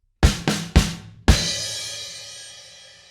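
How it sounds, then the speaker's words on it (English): A drum kit plays the final fill of a rock song: three quick heavy hits in even rhythm, then a loud crash that rings out and fades slowly, close and with no talk. "And then we have the final fill."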